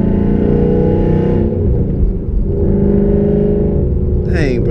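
A Ford Mustang's engine drones and rises loudly from inside the car on a back road, with a voice speaking briefly near the end.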